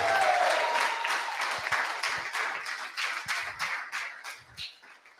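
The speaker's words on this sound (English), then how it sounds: "Ricardo Otero, round of applause." Audience applause at a web development bootcamp demo day in Lisbon, a dense round of clapping that starts loud and gradually thins and fades over about five seconds, with a few louder individual claps near the end.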